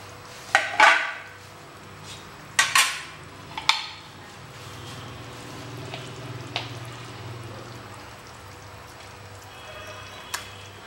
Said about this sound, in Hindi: सारी फ़िश हमने ट्रांसफ़र कर दी है इस ग्रेवी के अंदर।